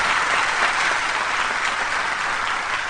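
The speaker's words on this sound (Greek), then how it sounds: "Ευχαριστώ πάρα πολύ για το θερμό και εγκάρδιο χειροκρότημά σας" An audience applauds at a satirical show, a dense, even wash of clapping from many hands that holds steady for a few seconds without voices.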